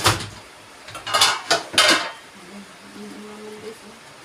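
Metal clanks and scrapes of a pot being handled, several sharp clattering knocks close by, then a faint hum.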